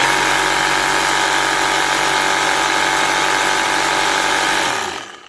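A Milwaukee M18 Hackzall brushed cordless reciprocating saw runs at full speed with a loud, steady mechanical buzz and rattle, held continuously before the motor cuts off and winds down at the end.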